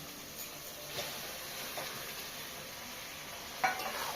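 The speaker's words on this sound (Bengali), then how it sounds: "যত মশলা থেকে তেল ছেড়ে গেছে এবার আলুটাকে দিয়ে দেবো" Potatoes go into spices frying in oil for radhaballavi alur dam and are stirred, giving a faint continuous sizzle with a few soft scrapes and a sharper clatter near the end.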